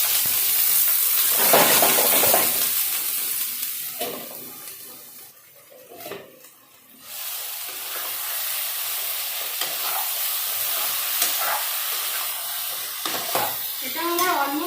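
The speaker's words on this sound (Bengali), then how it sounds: "তেলটা গরম, ছোট ছোট করে কেটে রাখা কাঁকরোল আর আলুটা আমি ভাজতে দিয়ে দিচ্ছি" Chopped pointed gourd and potato frying in hot oil: a loud, continuous sizzle with stirring scrapes. It dips briefly midway, then returns steadily.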